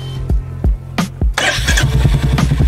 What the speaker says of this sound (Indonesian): silakan dinyalakan aja supaya pemirsa tahu suaranya gimana